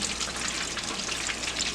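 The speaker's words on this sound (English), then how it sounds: "let that fry, and then once they are floating, I'll take them out" Catfish frying in hot oil for Cajun fried catfish: a steady, close, dense sizzle and bubbling hiss that stays even throughout, with no talking.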